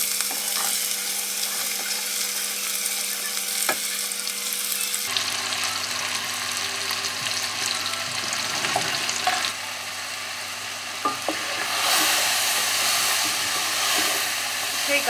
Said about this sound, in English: So I've just chopped my onions thinly, finely in like little pieces, and I'm just gonna add those in.